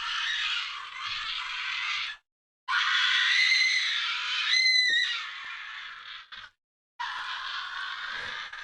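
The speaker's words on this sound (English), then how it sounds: "That's a great scream." A recorded person's scream is played back, long and shrill, in three bursts separated by short silences, with a sharp cry partway through and no talk over it.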